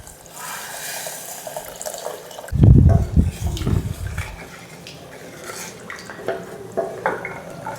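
More water poured into a pot of rasam with soaked tamarind: a loud, heavy gush of about a second and a half, then tapering splashes over steady kitchen background.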